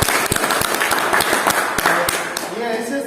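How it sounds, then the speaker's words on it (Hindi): An audience at an Atomy business meeting in Bongaigaon, Assam, claps in uneven bursts. Sharp separate claps sound close and loud, then fade as a voice begins speaking near the end. "हम चाहेंगे कि इनके लिए जोरदार ताली"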